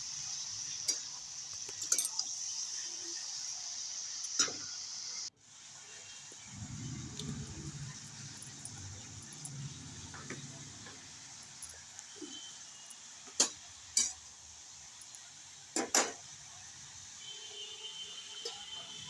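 Vegetables for a mixed vegetable curry are stirred in a pan with salt and then covered, giving soft scraping and a run of sharp metallic clinks, close and fairly quiet.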